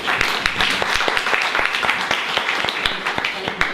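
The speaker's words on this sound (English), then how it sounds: "Please show a round of applause for Dr. Simon Ward." A room full of people claps steadily, dense applause with distinct individual claps standing out, loud and close.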